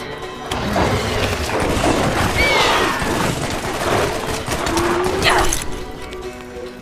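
Borderlands shotgun blasting in a game firefight: several loud, sharp bursts cracking out amid clattering impacts and layered game noise, with brief chatter mixed in.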